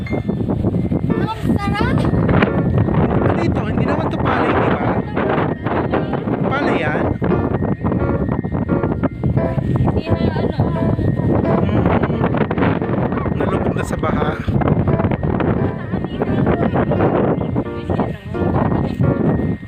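Strong wind buffets the microphone continuously outdoors near rice paddies, loud and rumbling throughout, with a person talking underneath at times.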